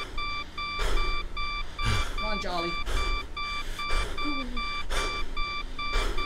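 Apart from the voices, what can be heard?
beeping in Jolly 3 video game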